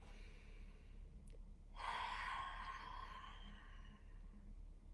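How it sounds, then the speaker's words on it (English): A single forceful exhale with the tongue out during a meditation exercise, a breathy rush lasting around a second and a half, quiet and close, preceded by a faint short breath. "So you exhale out with your tongue."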